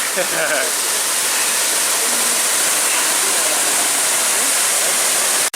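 A waterfall at a bush camp gives a loud, steady, broadband rush of falling water, continuous throughout, with faint voices briefly at the start.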